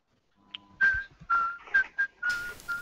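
A high, sustained whistling tone recurs in several short bursts over a crackling, noisy bed, growing rougher and hissier toward the end, with no talk over it.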